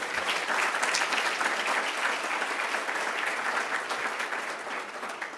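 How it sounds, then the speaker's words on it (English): Steady, full applause fills a room at an honorees event at the 755 Club in Atlanta, many hands clapping evenly and close for several seconds with slight tapering at the end. "just needs a little bit of applause"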